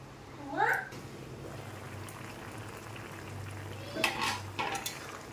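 A lid clatters onto a pan of ridge gourd with three or four green chillies, giving a couple of clear metallic clinks near the end, close by over a low kitchen hum, after a brief voice early on.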